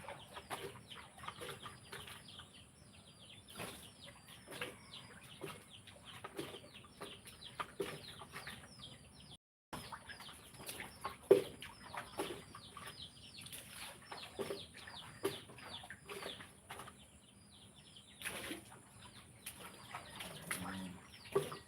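A mature rooster clucks in a series of short, soft calls scattered across a quiet outdoor yard, with a few louder bursts and occasional rustling between them.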